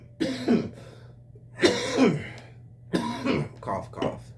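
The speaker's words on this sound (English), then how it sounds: "Cough, cough." A person coughs several times in short bursts separated by pauses, close to the microphone over a steady low hum.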